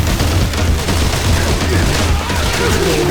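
Heavy gunfire rattles through a hurricane survival video game, a loud, sustained fusillade of overlapping shots and booms with voices faintly mixed in.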